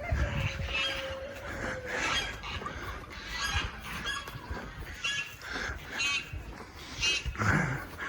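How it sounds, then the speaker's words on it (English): Several geese honk at intervals at moderate distance, their calls rising over a murmuring outdoor background. "Ducks and geese as well."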